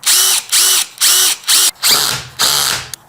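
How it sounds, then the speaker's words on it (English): A power drill whirs in short bursts, four quick pulses followed by two longer runs as the bit bites through plastic on a pickup step kit, close and loud. "there's that little mark right here where I'm gonna drill through."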